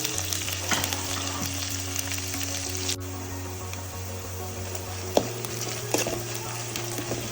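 Onion, carrot and green chilies frying in a hot tempering of lentils, a steady soft sizzle with occasional stirring clinks, no voices.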